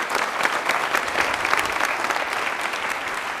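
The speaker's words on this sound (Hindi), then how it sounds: "देवराज के लिए तालियां प्लीज एक बार जोरदार होनी चाहिए।" A studio audience at a televised general-knowledge quiz gives a winner a dense, sustained round of applause, close and loud, with many hands clapping evenly throughout.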